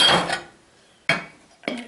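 Cooked matzo balls for chicken soup are plated into bowls: a sharp clink of a utensil against dishware, a short pause, then two more clinks, close and clear.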